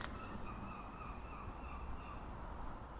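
Gulls calling in the distance over a steady outdoor background hum in Rhyl, Wales, their cries faint but persistent, with no talking.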